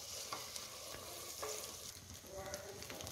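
Fried rice is stirred hard in a pan over a high flame, with a soft continuous sizzle and scattered scraping taps from the spoon, fairly quiet and with no talk.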